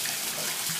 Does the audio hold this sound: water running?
yes